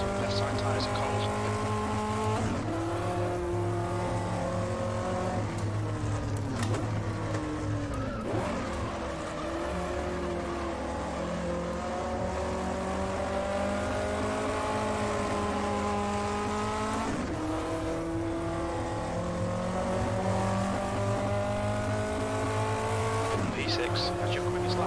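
A 1958 Formula 1 car in the Automobilista sim racing at Spielberg 1974 snarls through a constant engine drone. The pitch rises and falls with each gear change, tyres squeal now and then, and a voice talks over it.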